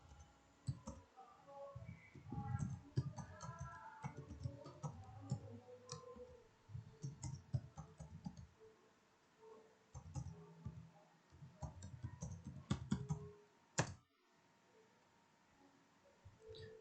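Keyboard keys pressed in bursts of close, dry clicks, with irregular rhythm and a few short pauses, plus one sharper click near the end.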